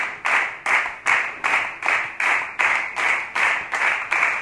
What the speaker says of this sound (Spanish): Para darte el aplauso